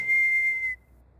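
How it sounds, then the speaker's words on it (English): A woman whistles a single sustained, slightly wavering off-key note in the video game Prey, clear and close against a quiet room, then cuts off abruptly, leaving near silence. "her whistling is not in tune"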